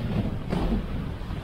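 Wind at an airport in Baku, Azerbaijan, gusts as a dense, steady roar buffeting the microphone for a second and a half, with no voices present.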